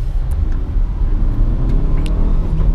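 Fiat Mobi Evo Way 1.0 Flex car driving on a winding mountain road, a loud, steady low engine and road rumble heard from close by, with a few faint high clicks.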